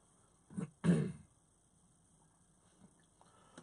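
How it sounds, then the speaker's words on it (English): A man clears his throat with two short, close rasping bursts, followed by near silence with faint background noise. "I'm just clearing my throat"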